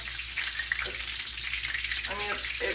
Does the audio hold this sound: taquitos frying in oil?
yes